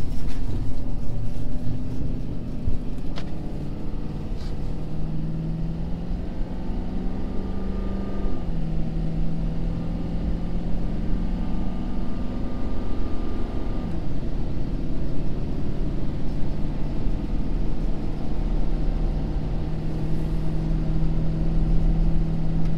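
A Ford Powerstroke diesel truck fitted with an S&B air intake accelerates gradually while towing about 31,000 lbs. The engine drones steadily from up close, its pitch climbing and then dropping at each gear shift.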